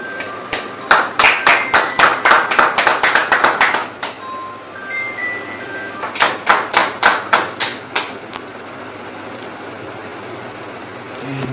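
Workshop audience clapping in two bursts, a run of sharp, evenly spaced claps that fades out and then starts again with a second shorter round, over a faint steady background.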